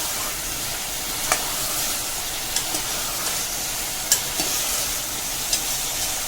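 Potato and eggplant pieces fry in an open pressure cooker with a steady sizzling hiss, broken by a few sharp clinks of a stirring spoon against the metal pot.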